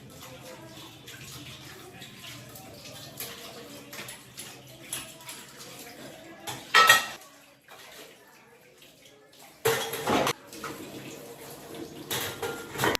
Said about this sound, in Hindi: यहाँ पे जो है ढेर सारे बर्तन हो गए थे, फटाफट से बर्तन वॉश करके फिर मैं स्टोव वगैरह क्लीन करूँगी